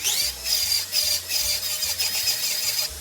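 A dental round bur whines steadily, high and close, as it grinds a window into an ostrich eggshell that stands in for a maxillary sinus lift, the pitch pulsing slightly as pressure shifts.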